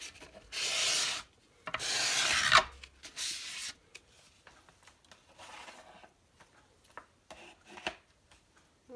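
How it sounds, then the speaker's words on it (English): A scraper drags shaving cream off marbled paper in two long, loud, hissing strokes, followed by lighter scattered scrapes and taps. "Okay, get my scraper again."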